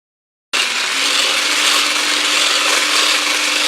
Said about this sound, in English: I'm just going to go ahead and use the hand blender.